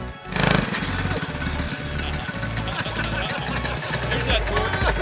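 Predator 212 engine on a hotrod mini bike with a freshly tuned Mikuni carburetor runs steadily, a loud continuous chugging drone with a brief rev near the start and a rhythmic low pulse throughout.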